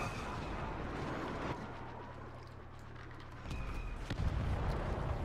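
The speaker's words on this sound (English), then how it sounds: "Oh, the sniper rifle." Sniper rifle fire in a Star Wars game amid a rumbling battlefield, with a couple of sharp cracks standing out near the end over continuous low combat noise.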